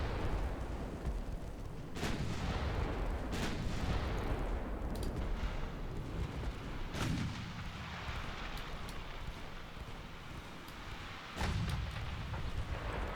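Heavy cruiser guns fire in the Ultimate Admiral Dreadnoughts naval battle game, several booming salvos spaced a few seconds apart over a constant low rumble of battle ambience.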